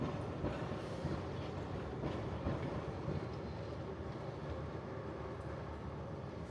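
A train on the Ishiyama Sakamoto Line near Lake Biwa, Kyoto, rolls past as a steady, fairly distant rumble with a faint clatter, holding an even level throughout without a clear approach or fade.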